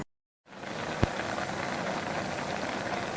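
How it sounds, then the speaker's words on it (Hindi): Pumpkin boils in a pot of water on a village kitchen stove, a steady close bubbling hiss that fades in after a moment of silence and continues evenly, with one brief sharp click early on and no talking. "कद्दू अच्छे से बॉईल हो गया, पानी तकरीबन खुश्क हो गया।"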